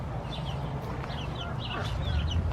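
Several hens cluck softly and intermittently in a backyard coop, fairly near, over a low steady background hum with no voices.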